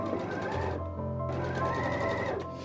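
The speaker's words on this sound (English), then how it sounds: "then we are going to sew around that armhole for both sleeves" A sewing machine stitches around the armhole of a thrifted tie-front top, a close, steady mechanical whir that pauses briefly before running again.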